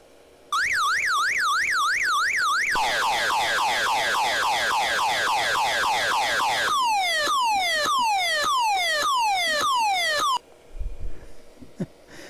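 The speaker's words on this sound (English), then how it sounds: "we're going to see what this alarm sounds like." A loud custom car alarm for an unlockable car in Second Life blares continuously, cycling through rapid warbling, falling sweeps and repeated descending whoops before cutting off abruptly, alone with no talk.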